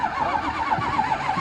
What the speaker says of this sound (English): trying to figure out how to get this car started